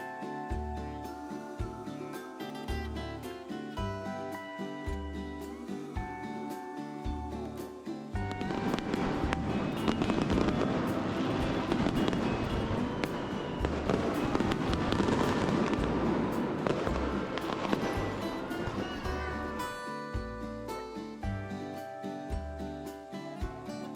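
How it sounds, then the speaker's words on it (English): A fireworks show over the beach at Hilton Hawaiian Village in Honolulu, O'ahu, with dense crackling and booming bursts in the middle stretch, layered over steady music playing throughout. "We went to this bar to watch the fireworks"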